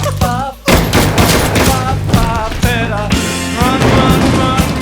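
Gunfire in a tense crime-drama scene, a rapid volley of loud, closely spaced shots with a short break partway through before the firing picks up again.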